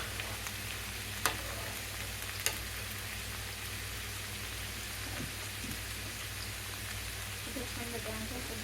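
Food frying in oil in a pan on the stove, giving a steady, even hiss and sizzle throughout, with a couple of sharp clicks and faint clatter of utensils.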